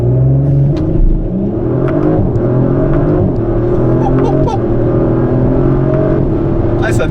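A 2023 Audi RS5 Competition Plus pulls hard from a standstill to 100 km/h, its engine roaring loud and steady from inside the cabin, with rising tones and gear changes, while a voice talks over it.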